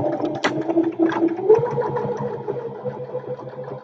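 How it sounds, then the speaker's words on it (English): A sewing machine runs in a short, close, steady mechanical hum while stitching a fabric face mask, with a faint clack near the start. "Then we will sew this part."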